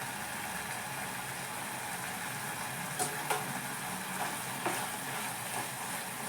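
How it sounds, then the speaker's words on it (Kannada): Tomato gojju frying in a pan with a steady broad sizzle as fresh coriander leaves are dropped in, a few soft stirring clinks rising above the continuous hiss, no voices. "ಈಗ ನಾನು ಕೊತ್ತಂಬರಿ ಸೊಪ್ಪನ್ನು ಹಾಕ್ತಾ ಇದ್ದೀನಿ."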